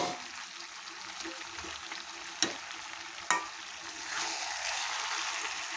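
Fried potatoes are stirred into chicken curry in a pan, with a soft steady sizzle, two sharp scraping clinks of a spoon against the pot, and the frying growing louder near the end.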